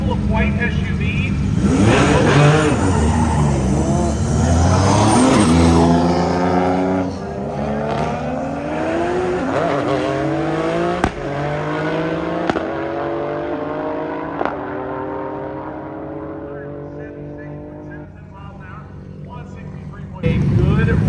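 Roll racing cars accelerate side by side at an outdoor race event, engines rising in pitch together in a long, loud, sustained roar over more than twenty seconds, with a few sharp knocks and an announcer talking over it.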